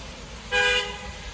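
A car horn honks once in a steady blare of about a quarter second on a road in Muğla/Denizli, Turkey, loud and close against quiet traffic background, with no talk.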